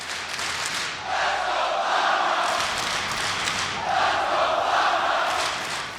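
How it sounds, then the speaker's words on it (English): A large esports arena crowd at a Counter-Strike match roars and cheers for the home team, a dense sustained wall of voices swelling twice with a broad continuous hiss underneath. "the crowd starts to roar for Cloud9 in their home ground"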